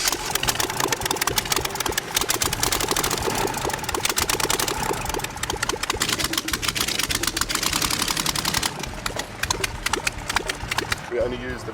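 A steady, rattling engine of an improvised vehicle built on the back end of an old Ford Cortina runs loudly throughout, chugging with a fast mechanical rhythm that eases slightly near the end.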